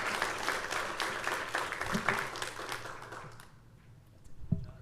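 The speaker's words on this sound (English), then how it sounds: "give one more round of applause for these great leaders" An audience at a school district board meeting applauds student leaders with brisk, dense clapping that thins out and fades over the last second and a half, ending with a faint knock.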